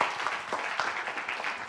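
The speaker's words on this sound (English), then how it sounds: "let's give Henri a round of applause" Applause from a meetup audience for a speaker, a steady patter of many hands clapping at moderate distance, continuous through the whole moment with no voices over it.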